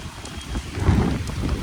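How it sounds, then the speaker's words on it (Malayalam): Rain falls around a hilltop Hanuman temple during a night festival, giving a brief, steady rushing wash with low wind-like rumble and no voices. "മഴ പെയ്യാണ്."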